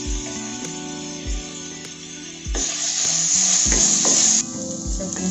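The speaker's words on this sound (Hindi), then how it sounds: "अच्छी तरह से मिला लेते हैं।" Vegetables including corn, seasoned with salt and black pepper, are stirred in a sizzling pan, with a steady fry hiss, repeated scraping and clinking spoon strokes against metal, and louder sizzling midway; no speech.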